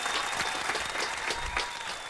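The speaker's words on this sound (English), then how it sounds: "Give him a round of applause for that." Studio audience applause during a hip-hop radio cypher show, dense and continuous clapping at close range, holding steady throughout without a break.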